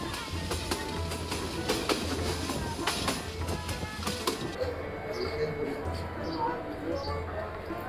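A train rumbles along steadily through hilly tea-garden country toward Sreemangal, with a rhythmic clatter of wheels, and a voice can be heard over the running noise.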